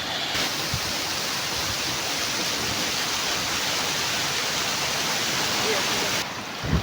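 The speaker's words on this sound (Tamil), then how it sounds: "தண்ணீர் அப்படி நிறைஞ்சு மேலே நம்பி அப்படி கீழே ஊற்றிட்டுருக்கு" Water spilling over the Monai check dam near Alachampalayam pours down like a waterfall, making a loud, continuous broadband rush that holds steady throughout and briefly drops at the end.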